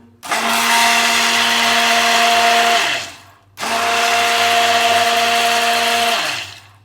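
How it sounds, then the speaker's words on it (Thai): A Carte FMX021T hand blender runs at half speed in two steady bursts of about three seconds each, a loud close motor whine with a strong hum that winds down at the end of each burst. "ผมลองเพิ่มมาสักครึ่งทางนะครับ เนี่ย ครึ่งทาง นะครับ ฟังเสียงดู"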